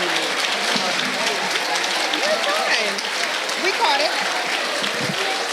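A crowd applauds at a Hampton City Schools Teacher of the Year celebration, with dense, sustained clapping honouring the nominees and voices audible over it.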